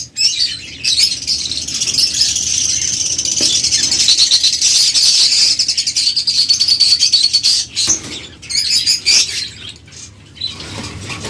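Caged lovebirds chirp in a dense, high, continuous chatter, loud and close, with occasional brief gaps and shuffling noises.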